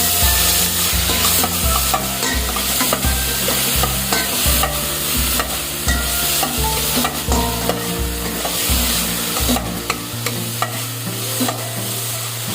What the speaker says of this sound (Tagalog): Haluin lang natin ito hanggang sa maluto ang kamatis.